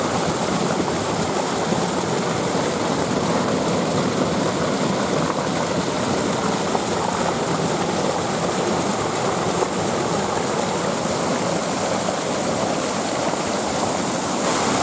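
A loud, constant roar of rushing, falling water from a waterfall on the Jérusalem River fills the air without pause, dense and close, with no voices.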